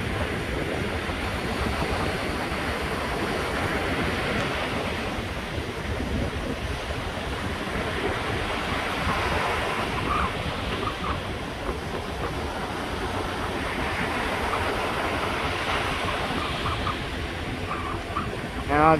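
Steady broadband wash of ocean surf rolling onto a beach at Fort Lauderdale, continuous and moderately loud with no talking.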